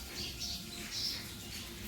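Sparrows chirp on a morning outdoors, with a few light, high tweets over a soft ambient hush, fairly faint and brief with no voices.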